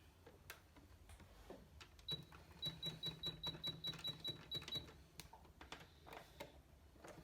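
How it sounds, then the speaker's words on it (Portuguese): Sewing machine running a seam on fabric with the presser foot, while making a decorative tree panel: a short, even run of quick mechanical stitch ticks lasts about three seconds, fairly quiet, with scattered handling clicks before and after. "Aí eu vou passar uma costura aqui."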